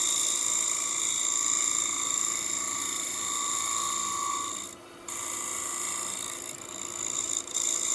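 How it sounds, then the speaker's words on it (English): A bottom bowl scraper cuts a spinning wooden bowl on a lathe, giving a steady whirring rasp with a tonal hum, briefly interrupted by a short loud scrape near the end. "I'm going for a bottom bowl scraper"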